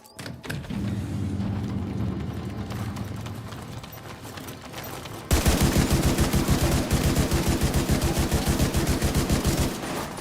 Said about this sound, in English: I know I had no reason to shoot them, but I did it anyway.